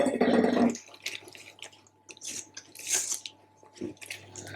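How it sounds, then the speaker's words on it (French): Pecan nuts being roughly chopped for a brownie give irregular crunching and crackling knife hits, a burst of louder cracking at the start followed by lighter scattered taps and crumbles nearby. "soit vous les concassez, les hachez grossièrement, vite fait"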